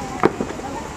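A single firework bursts at the Fur Rondy winter festival in Alaska, one sharp mid-distance bang followed by a fainter thump, with people chatting nearby.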